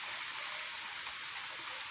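Steady rain falls without a break during a long rainy spell, a dense even hiss of drops on surfaces with small patters scattered through it, fairly close and with no voices.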